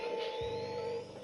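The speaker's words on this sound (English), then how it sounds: "that's the sound of the ecto containment unit" The ecto containment unit on a Hasbro Ghostbusters 1984 replica proton pack gives off an electronic hum with a rising chirp and a steady whine, close and alone.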